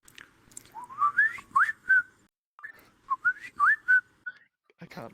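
A person attempts to whistle, producing two short bursts of rising, wavering whistled notes separated by a pause, close and fairly loud, with a bit of breathy noise at the end.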